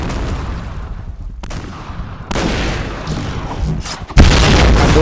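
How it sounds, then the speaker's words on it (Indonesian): A witch bomb goes off in the Zombie Slayer shooting game, a loud booming blast that swells in bursts over continuous gunfire, with a sharp new explosion near the end. "Tuh, bom yang paling gue benci tuh. Bom ini ya. Bom penyihir."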